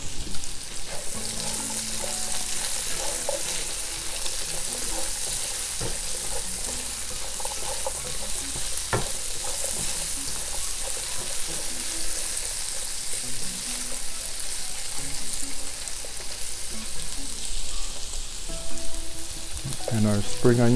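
Carrots stir-fry for beef and broccoli, giving a loud, dense, continuous sizzle with light clinks and shuffles of stirring. A brief burst of utensil clatter comes near the end, and no voices are heard.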